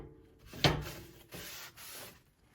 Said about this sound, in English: I'll give them a nice little wipe down. Make sure the grates are good.